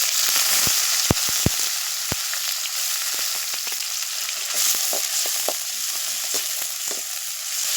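Chopped onions hitting hot oil with fennel and cumin seeds, a loud dense sizzle with sharp pops and crackles scattered throughout, steady and close with no voices.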